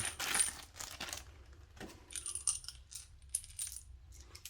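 Six large screws for a printer stand are taken out of a bag, giving faint, close metallic clinks and light rattles with scattered rustling, in brief bursts separated by quiet.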